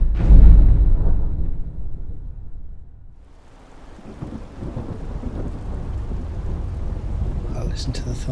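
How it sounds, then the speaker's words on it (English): Thunder in Skyrim opens with a loud, deep crack that fades into a long low rumble, followed by steady rain hiss and renewed rumbling, close and dominant. "I'll listen to the thunder rumbling."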